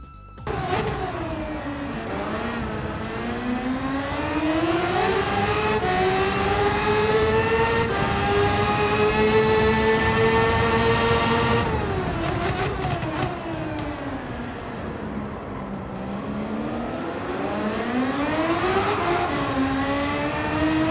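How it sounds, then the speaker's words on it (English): Gran Turismo F3500B open-wheel race car engine in Gran Turismo 7, a loud high-revving whine climbing and falling through gear changes, with sharp downshift blips midway and repeated acceleration runs. "we get another new open wheeler car with the Gran Turismo F3500B"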